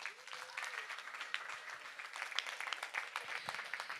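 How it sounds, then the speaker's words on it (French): Applause from an audience at the opening ceremony of Relais pour la Vie in Rixensart, dense steady clapping at moderate distance lasting the full four seconds. "On peut les applaudir bien fort, s'il vous plaît."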